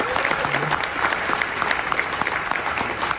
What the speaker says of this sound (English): Give yourselves a round of applause for being unstoppable.